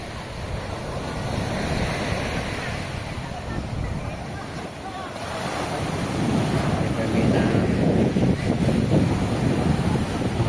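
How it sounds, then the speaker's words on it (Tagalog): Strong ocean waves crash and roar continuously at an outdoor shore, the surge building louder toward the end amid heavy wind buffeting the microphone. "Ang lakas ng alon, grabe."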